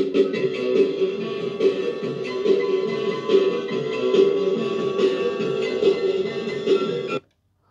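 Vintage Philips CD480 CD player playing rock and roll music, a steady full band mix with strong bass and rhythmic accents heard continuously for about seven seconds before cutting off abruptly.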